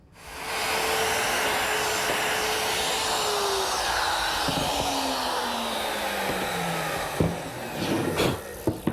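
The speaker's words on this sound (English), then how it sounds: "Using my router and a jig, I'm able to make a series of holes which is going to receive the clips to support the shelves." Router guided by a jig cutting a series of holes for shelf clips: a loud steady motor whine that slowly drops in pitch, then a few sharp knocks and bumps near the end, no speech.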